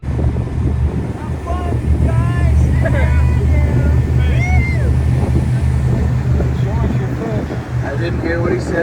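A jet boat engine idles in the bay on a Rogue River tour at Gold Beach, Oregon, a loud steady low rumble with wind buffeting the mic and people talking over it.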